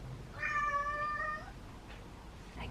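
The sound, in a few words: cat meowing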